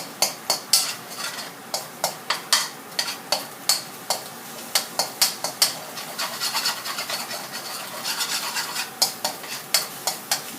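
Food sizzles in a hot wok while a metal spatula scrapes and clanks in a quick, regular rhythm of repeated strokes, close by, stir-frying egg in oil for dry Thai suki.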